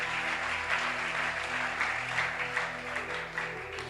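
A church congregation at a morning service claps and cheers in sustained, dense applause that holds steady and fills the room for several seconds.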